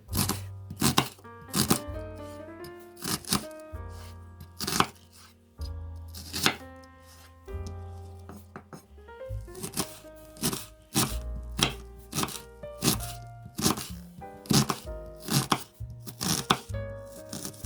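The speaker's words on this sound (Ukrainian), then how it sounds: "Нарізаю її на невеличкі кубики." A knife chops onion into small cubes on a board, with quick irregular cuts repeating throughout over soft background music.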